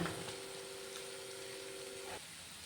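Beef fry sizzling and hissing steadily in a pan as it is stirred and roasted darker, a close, continuous frying crackle with a brief tonal hum that stops near the end.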